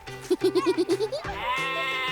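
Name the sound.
young Saanen dairy goats bleating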